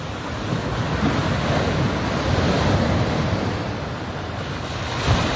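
Rough sea in bad weather, the surf crashing and churning without a break, with heavy wind buffeting the microphone. The roar stays loud and close throughout, and no one speaks.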